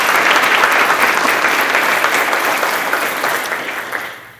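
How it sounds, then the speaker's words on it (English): A room full of guests at a chamber of commerce congressional luncheon applauds loudly in a dense, continuous wash of clapping that gradually tapers off. "I would like to ask for a round of applause for both organizations."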